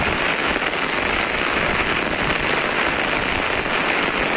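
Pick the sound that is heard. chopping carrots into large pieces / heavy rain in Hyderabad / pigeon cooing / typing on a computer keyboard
heavy rain in Hyderabad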